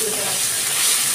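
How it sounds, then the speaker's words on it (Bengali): Hilsa fish head fries gently in mustard oil over low heat, a brief, even, close hiss with no voices. "আঁচটা একটু কম করে আস্তে আস্তে ভেজে নিচ্ছি"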